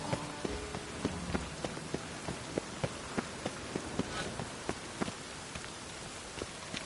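Rain in a city in The Witcher 3 makes a soft, even patter, with regular footstep-like thuds stepping through it at a steady walking rhythm and no voices.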